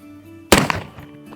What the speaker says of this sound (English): let's load it up and shoot some more